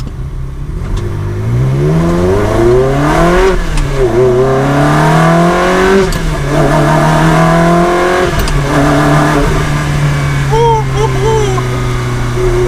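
A gated-manual Ferrari 360 Spider engine revs up and down through gear changes, rising and falling pitch sweeps, loud and close from inside the cabin.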